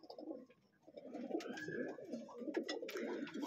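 Pigeons in a loft under red heat lamps coo in low, throaty, overlapping bursts, joined by a few faint higher chirps and light rustling nearby.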